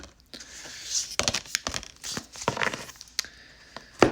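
Papery rustling and crinkling with sharp clicks and flicks as stiff tarot cards are handled and shuffled nearby, no talking.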